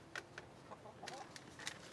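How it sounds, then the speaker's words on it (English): Backyard chickens cluck in short, faint bursts at a distance, a few scattered calls over a quiet outdoor background. "You can hear my chickens clucking."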